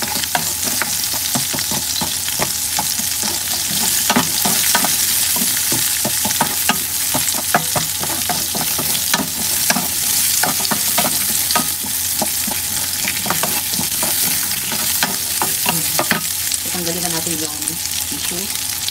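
Onion frying and being stirred in a pan on a stove, a steady sizzle with repeated scraping stir strokes throughout, fairly loud and close, with no talking.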